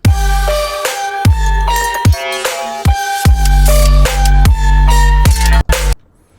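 A finished dark trap song, with booming 808 bass hits, sharp percussive transients and layered synth melody, played loud and full before cutting off near the end.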